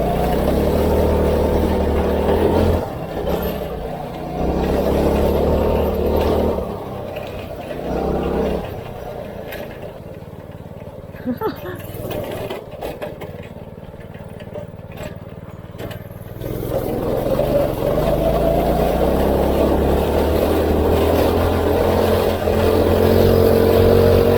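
A go-kart engine runs at full throttle on backroads, a loud, steady buzzing drone that dips briefly in the middle before revving back up, heard close from the driver's seat with no voices.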